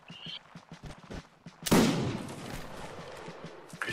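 Musket volley fire in the Napoleonic Wars video game: a sudden loud, crackling burst of many shots that rolls on and fades, preceded by faint voices giving orders.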